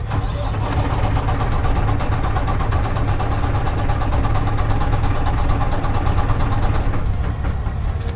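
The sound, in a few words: Volvo D13 truck engine cranking during compression test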